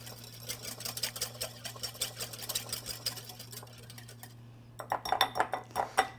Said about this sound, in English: Actually going to grab our whisk just to make sure everything is incorporated well.